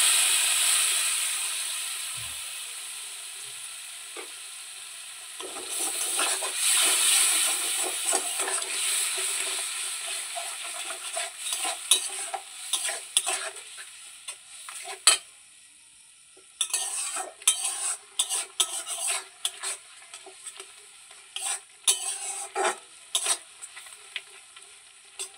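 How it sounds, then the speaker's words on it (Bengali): Water poured into spices frying in hot oil for a pangas fish curry, giving a loud steady sizzle and hiss that settles into crackling bubbles with occasional spoon scrapes against the pan. "তো দেখো বন্ধুরা জল দিয়ে দিলাম একটু।"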